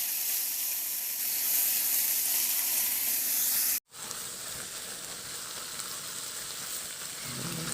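Ground pork sizzling in a pan with tomatoes, a loud steady frying hiss that cuts out briefly and resumes slightly softer as the meat is stirred.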